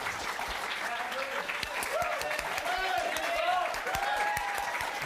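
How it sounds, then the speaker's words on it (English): A studio audience applauds at a political candidates event, steady dense clapping from a crowd, moderately distant and continuous for the whole stretch. "our studio audience, you can now applause."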